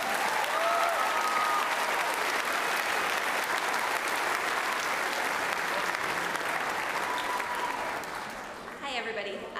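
Sustained applause from an audience at a middle school 8th grade celebration, dense and steady for about nine seconds with whoops rising briefly above it, tapering slightly at the end as a voice begins.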